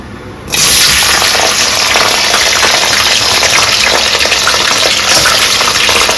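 A sudden loud burst of sizzling as crabs hit hot oil, then a dense, steady crackling hiss that continues strongly to the end.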